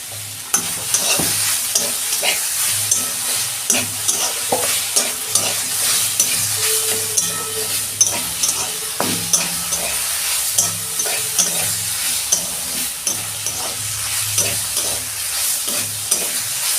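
Fried eggplant is stirred in a pan with ginger-garlic paste and green chilli in katla fish oil: a loud, close sizzle broken by regular scraping stirring strokes, with no talking.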